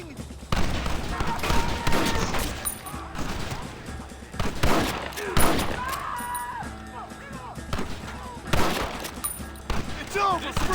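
Red Dead Redemption game gunfire crackles in a dense, irregular fusillade of rifle and pistol shots, close and loud, while shouting voices call out over the battle.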